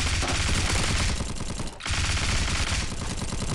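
Sustained SMG fire in the Bullet Force shooter, a loud, continuous rattle of rapid shots with only a brief dip midway, no voices over it.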